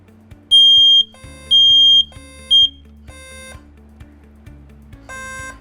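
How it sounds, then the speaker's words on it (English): A smoke alarm sounds high shrill beeps in bursts, and an alarm unit that picks them up answers with a lower-pitched sounder, pulsing near and loud with no talking. "it picks up the sound from a smoke alarm, and then it activates a lower pitch sounder inside the unit"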